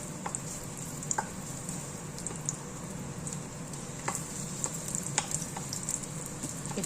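Ginger sizzles in a hot wok with a steady crackling hiss, punctuated by occasional sharper pops and ticks, fairly quiet and with no talking over it.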